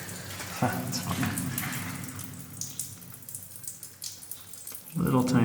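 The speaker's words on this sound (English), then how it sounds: "Little tiny stream of water coming off this stalactite, iron stalactite." Thin trickle of water running off an iron stalactite in an abandoned mine, a faint steady splashing patter in an echoey space, with a voice speaking briefly at the start and end.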